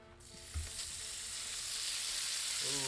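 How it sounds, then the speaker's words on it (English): Venison heart sizzles steadily in a hot pan, a dense crackling hiss that builds and holds, with a brief clatter near the start. "look at that sizzle already"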